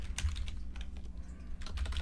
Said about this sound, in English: Sorry, the typing's going to be annoying